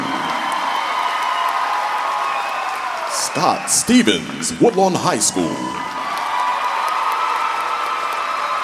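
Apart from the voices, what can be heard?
crowd applauding and cheering for teachers and principals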